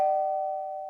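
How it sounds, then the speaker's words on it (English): A doorbell in an animated cartoon gives a single clear electronic tone that holds steadily and fades slightly over about a second, heard alone. "The doorbell's ringing because Fire connected the wires together."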